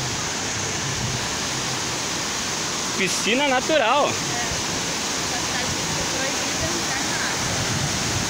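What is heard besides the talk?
waterfall of the Chapecó River falls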